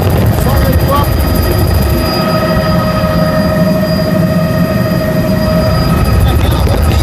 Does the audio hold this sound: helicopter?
yes